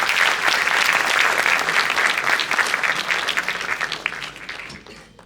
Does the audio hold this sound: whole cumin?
no